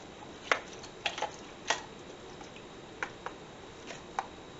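A spoon stirs Mexican beef stew in a pot, a few soft wet squelches and light clinks at irregular intervals over quiet background hiss.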